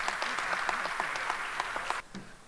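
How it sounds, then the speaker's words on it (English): An audience at a plenary session claps briefly for a distinguished speaker, a short burst of moderately distant applause that drops off abruptly near the end. "Let's give him a warm round of applause."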